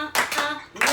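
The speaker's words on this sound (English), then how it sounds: "We make it clap." Hands clap in a fast, dense burst lasting about half a second, then stop briefly before another burst starts. The clapping is close and fairly loud.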